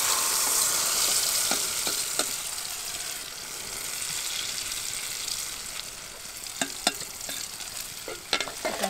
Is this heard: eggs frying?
yes